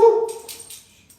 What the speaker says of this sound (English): My dog has decided to bark now.